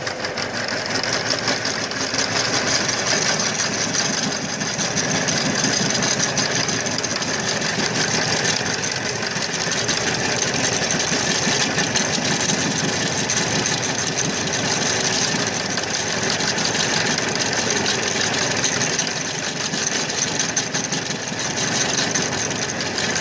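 A homemade lathe cuts a workpiece into knobs as the feed advances, a steady droning whir with a fine rapid chatter that holds evenly throughout at close range.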